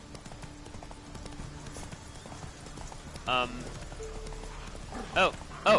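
A horse's hooves clip-clop in The Witcher 3 video game, a steady rhythmic patter low under a voice, with a few brief louder sounds near the end.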